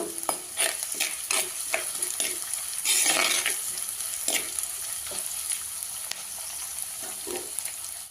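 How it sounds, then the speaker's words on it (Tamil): Onions sizzle and fry in a pan for ridge gourd gravy, with a steady crackle broken by repeated scraping stirs of a spoon, close and fairly loud, and no talking. "இப்போ வெங்காயம் வதங்கிருச்சு"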